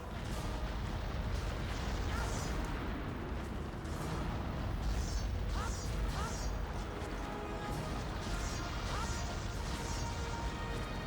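A monster smashes through part of a fort in the PSP game Monster Hunter Freedom, with repeated crashing, booming impacts over a dense, continuous wash of game noise for the whole stretch.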